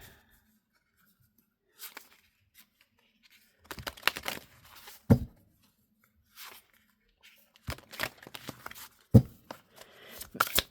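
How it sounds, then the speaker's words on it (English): Tarot cards being shuffled by hand, with papery riffles and soft slaps coming in short bursts separated by quiet pauses, close and fairly faint. "I'm going to pull one of these cards."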